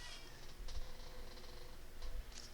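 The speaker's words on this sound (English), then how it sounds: "Oh, my cat." A pet cat purrs softly and steadily close by, a faint continuous rumble with a few brief rustles and light bumps on top, and no speech.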